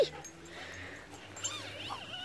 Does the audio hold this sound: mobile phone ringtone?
no